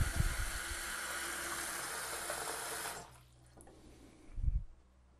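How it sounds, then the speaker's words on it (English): Kitchen sink tap running into a clogged drain, a steady close hiss of flowing water for about three seconds before it is shut off, leaving faint background with a short low thump near the end. "Let me turn on the water and show you that it is indeed plugged up now."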